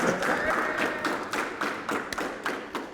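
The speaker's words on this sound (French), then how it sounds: "Applaudissez-le s'il te plaît." A small audience on a dating game show applauds in brief, uneven clapping with distinct claps and a few thuds, dense at first and thinning over three seconds, with some voices mixed in.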